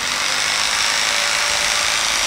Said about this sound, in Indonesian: Oke, sekarang kita tambahin gergaji.